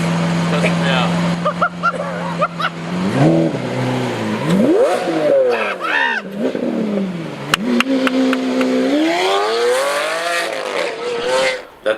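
A Lamborghini Aventador revs hard and loud, its engine pitch climbing and falling in repeated sweeps with a sharp crackle near the middle, while people talk over it throughout.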